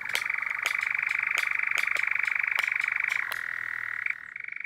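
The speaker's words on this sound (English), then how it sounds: "the eerie chirring of the nightjar echoes across the heath" Nightjar chirring on South Downs heathland at evening: a continuous, even churring trill runs for several seconds, fairly faint and distant, with a few sharp clicks, then falters and stops briefly near the end.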